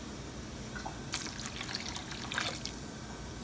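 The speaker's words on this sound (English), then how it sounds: "And to this, we're going to add some water." Water poured from a can into a cooking pot for chickpeas with pig feet, a quiet trickling and splashing that builds into a fuller pour midway, with no talking.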